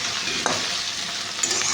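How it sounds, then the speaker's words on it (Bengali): Ginger paste frying in hot oil in a home kitchen pan, with potatoes, a steady close sizzle with a couple of brief stirring scrapes and no talk. "আদাটা দিয়ে একটু ভাজা হোক।"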